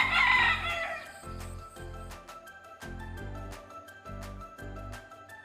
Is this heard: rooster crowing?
yes